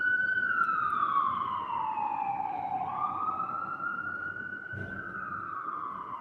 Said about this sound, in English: Hear the sirens.